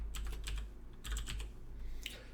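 Quick bursts of computer keyboard typing while entering Arduino code, clustered keystrokes in short runs with brief pauses, close and clear over a low steady hum, no talking.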